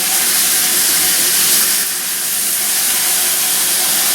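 Steak sizzling in a hot pan just after being turned over, a loud steady broadband hiss and crackle that stays continuous for the whole stretch with no talk.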